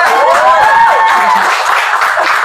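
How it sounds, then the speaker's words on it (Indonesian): Studio audience applause for Keisha during an Indonesian talk show, a steady wash of clapping with a few voices over it, close and loud and filling the whole moment. "tepuk tangan untuk Keisha"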